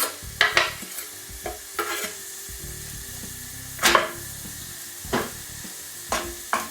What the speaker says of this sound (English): We're gonna let this fry like this for about 1 minute